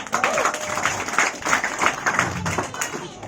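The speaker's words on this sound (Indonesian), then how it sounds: "Tepuk tangan Bapak Ibu" Audience applause at a marketing-plan presentation, a crowd clapping in uneven bursts at moderate loudness with some voices mixed in.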